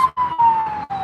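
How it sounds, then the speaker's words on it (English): Emergency vehicle siren nearby, a loud steady wailing tone chopped into short bursts by brief gaps. "I hear sirens stopping right there."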